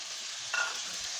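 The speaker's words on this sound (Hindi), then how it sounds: "इसी तरह आप इसमें चम्मच चलाएँ, ये आपकी बिल्कुल ग्रेवी बन जाएगी" A spoon stirs sizzling masala gravy in a pan for Hyderabadi daal mash fry, giving a soft, steady frying hiss with a brief scrape of stirring, close and alone.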